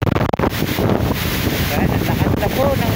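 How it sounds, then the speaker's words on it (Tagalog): Strong wind and heavy rain at Manila Bay, a steady roaring gust noise buffeting the microphone throughout, with a few sharp knocks near the start and faint voices mixed in. "ang lakas na po ng ulan, ng hangin."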